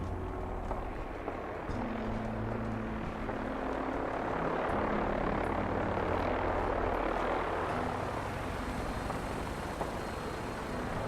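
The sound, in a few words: Brotherhood of Steel aircraft approaching in Fallout 4 video game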